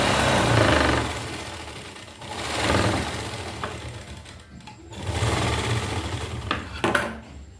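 A sewing machine stitches lace onto the neck of a dress, its motor running in close, loud bursts of rapid rhythmic clatter with short pauses between runs.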